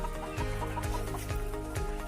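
Chickens cluck busily nearby while being fed chopped banana stem, a dense layer of overlapping clucks and low rhythmic thumps, steady and fairly loud.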